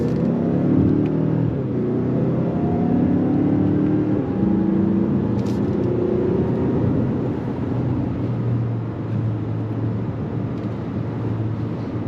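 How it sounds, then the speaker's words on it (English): A 2025 Mazda CX-5 Turbo AWD pulls hard on throttle, heard from inside the cabin as a steady engine drone and road rumble with rising tones as it climbs through the gears, continuous and fairly loud. "Let's go on throttle again."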